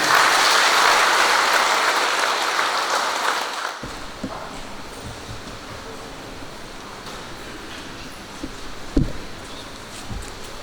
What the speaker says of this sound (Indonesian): marilah kita sambut dengan penuh sukacita keluarga baru ini dengan memberikan aplaus tepuk tangan yang mulia